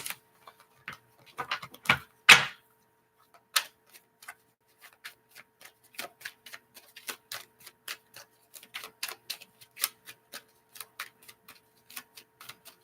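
Playing cards are shuffled in a quiet room, producing a scatter of sharp, irregular clicks and snaps, with a few louder riffles near the start followed by faint sparse ticks.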